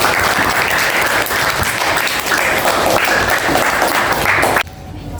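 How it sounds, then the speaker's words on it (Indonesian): Loud, sustained applause from a class clapping continuously for a student group, dense and steady, cutting off abruptly near the end. "sekali lagi tepuk tangan untuk kelompok 5"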